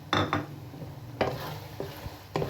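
A spoon scrapes through okra in a pan as cumin, garam masala, chili, salt and turmeric are mixed in, giving a few distinct scraping strokes with quiet gaps of faint sizzle between them.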